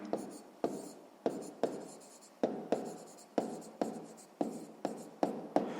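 Pen or pencil writing on paper during a sixth-grade math exercise: quick repeated strokes, about a dozen sharp scratches in a fairly regular rhythm, close and clear with no voices.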